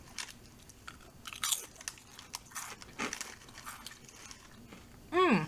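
Deep-fried potato-based wasabi crisps being bitten, a few sharp crunches and chewing sounds up close, with a short murmur at the end.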